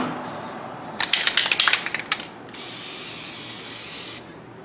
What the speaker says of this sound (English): A very light douche of the fluid film.